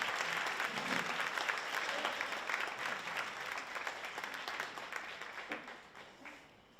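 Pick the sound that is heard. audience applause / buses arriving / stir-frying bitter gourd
audience applause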